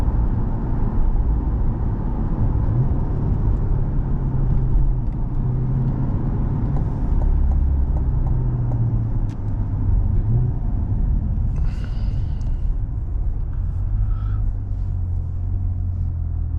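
A C8 Corvette rolls through town traffic, its engine a steady low rumble heard from inside the cabin, with road noise constant throughout and no sharp revving.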